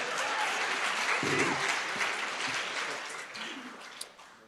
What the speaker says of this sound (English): give Ron a round of applause